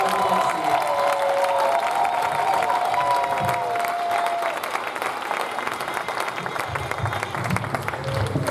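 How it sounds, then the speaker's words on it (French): A church congregation at a francophone service gives loud, sustained applause filling the room, with cheering and crowd noise mixed in and voices rising over the clapping later on. "Vous pouvez les applaudir encore très fort."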